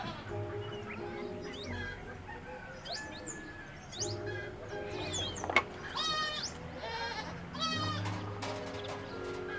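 Goats and sheep bleat repeatedly inside their shelter, several animals calling over one another at moderate distance, with birds chirping in the background throughout.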